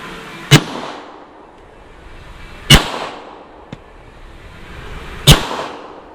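Three sharp fireworks shell explosions crack out at spaced intervals, each loud burst trailing into a fading rumble, with a small pop between the second and third.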